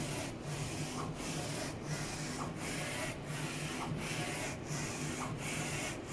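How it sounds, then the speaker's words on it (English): An Alpha-Jet flatbed UV printer prints white ink, its print head sweeping back and forth in steady, evenly spaced passes with a faint mechanical hum underneath. The sound is quiet, with no voices. "Then the machine starts to print white ink on the bottom, and then color on the top"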